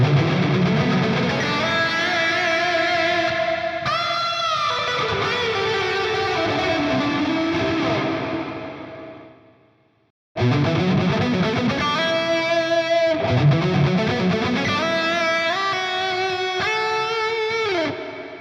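An electric guitar through a Dunable Eidolon delay and reverb pedal, both reverb and color at maximum, plays sustained chords drenched in heavy reverb and delay, swelling and trailing off into silence before starting again.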